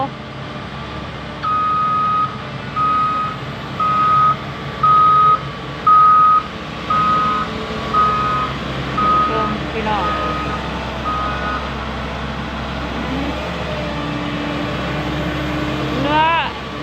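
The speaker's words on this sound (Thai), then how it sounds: "จ้างรถบดมา ให้มันเน่นกว่าเก่า" Reversing beeps from a hired road roller compactor at a house-lot earth-filling site: a steady run of evenly spaced electronic beeps over a low diesel engine rumble, fading out partway through while the engine keeps running.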